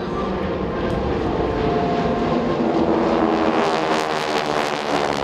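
GEICO Skytypers World War II military propeller planes flying overhead at an air show, a loud steady engine drone that holds for several seconds with no talk.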